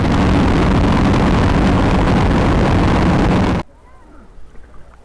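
Wind and engine noise from an action camera on a moving motorcycle sound as a loud, constant roaring rush that suddenly cuts to near silence, followed by faint scattered noises.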